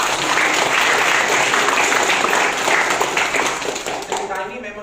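Sustained applause from a seminar audience, steady dense clapping that fills the room for several seconds before thinning out at the end.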